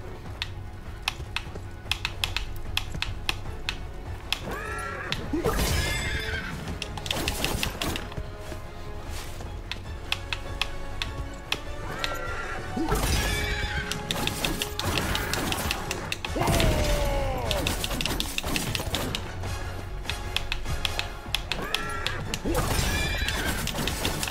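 Repeated loud horse neighs and whinnies ring out over busy game combat, with clattering hooves, metallic clanks and impacts filling a dense, continuous action soundscape in a Prince of Persia: The Lost Crown game.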